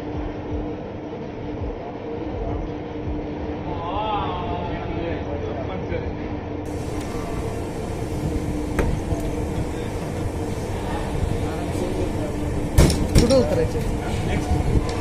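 Hadapsar–Hazur Sahib Nanded superfast express train rolls along with a steady, moderately loud rumble and rail noise, a few sharper knocks near the end, with faint voices in the background.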